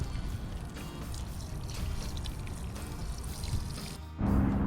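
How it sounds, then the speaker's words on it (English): Water is poured into a bioswale, pouring steadily with a continuous splashing rush, fairly close, before a sudden shift to a different, louder wash near the end. "So I'm gonna pour this into our bioswale here and see where it goes."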